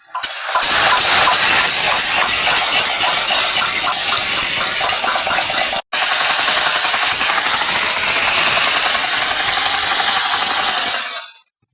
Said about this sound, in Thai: เสียงเป็นยังไงนี่ เจ้าอีแต็กคันนี้นะครับ บอกเลยเสียงอย่างลั่น